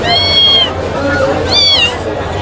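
A young Persian kitten, about one and a half months old, gives two close, clear meows, one early and a second shorter one about a second later, over faint background noise.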